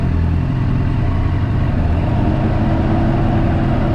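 Yamaha FZS 1000 Fazer motorcycle, a carbureted four-cylinder, idling after warming up: a steady, even low rumble held close and constant with no revving or voices.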